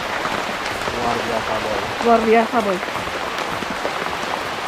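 Rain pours down in a Kalimantan jungle during river fishing, a dense, steady hiss of drops on leaves and water, with a voice briefly talking partway through.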